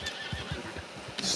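A horse in the video game Red Dead Online whinnies while hooves clip-clop in an uneven patter, fairly close and moderately loud, with no speech over it.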